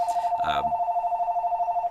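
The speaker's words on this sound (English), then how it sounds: "A little phone call coming in here." A telephone rings steadily, a trilling electronic ring held for about two seconds against a quiet room, with a brief voice murmur near the start.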